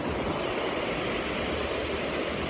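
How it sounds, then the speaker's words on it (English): The Krimml waterfall, a massive cascade, roars in a dense, unbroken rush of water, loud and steady with no voices over it. "we're by a massive waterfall"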